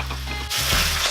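Cold rice being added to kimchi and onion frying in a hot pan for kimchi fried rice, a low steady hum giving way to a sudden burst of bright sizzling that continues, close and moderately loud.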